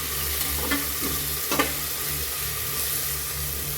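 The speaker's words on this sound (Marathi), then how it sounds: "अद्रक पण आपल्याला टाकून द्यायचे आणि हलवून घ्यायचे परत एकदा छान" Steady frying sizzle as grated ginger is stirred into masale bhat in a pan, with a few scraping strokes of the spoon and no talk.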